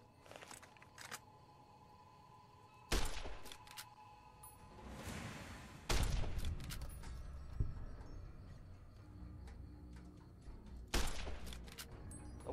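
Varmint rifle shots in Fallout: New Vegas, three or four sharp single cracks spaced a few seconds apart over a quiet game ambience with small clicks between them.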